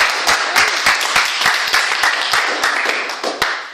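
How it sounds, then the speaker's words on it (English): An audience applauds after a table topics session at a Toastmasters meeting, a steady, dense round of clapping from many hands that carries on without a break for several seconds. "Let's give a round of applause."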